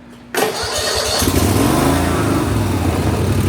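A Snapper lawn mower engine that is leaking oil cranks and catches after choke and gas, then runs loud and close with a fast, steady high-revving drone.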